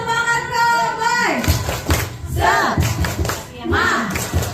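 Children in a school group clap a rhythmic chant in bursts, with sharp hand claps and thumps mixed under loud chanting voices at an early-childhood education event in Kembangan, West Jakarta.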